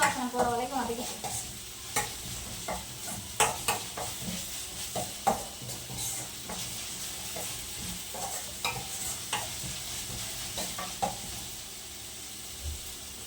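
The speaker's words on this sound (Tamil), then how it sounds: "நல்ல பச்சை வாசனை போற வரைக்கும் வதக்கிட்டு" Ingredients being sautéed in a pan, with steady soft sizzling and repeated scraping stirs of a spoon against the metal, close and fairly quiet.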